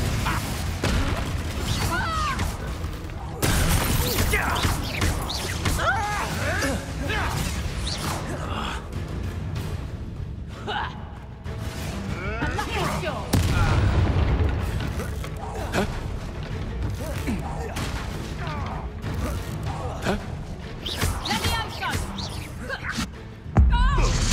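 Spell blasts and booming explosions in Hogwarts Legacy go off repeatedly amid constant battle noise, with voices shouting incantations over the loud, dense combat.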